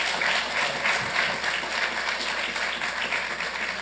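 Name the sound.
applause honoring Diego A. Sarmiento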